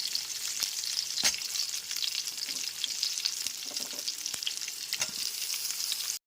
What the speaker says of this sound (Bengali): কুমড়োটা একটু হালকা করে ভেজে নেওয়ার পর এর মধ্যে দিয়ে দিচ্ছি বেগুনের টুকরোগুলো